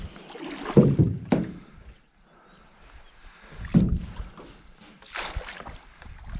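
A fishing boat is shoved through shallow water in a few heavy bursts, with scraping, sloshing and splashing between quieter pauses, close by.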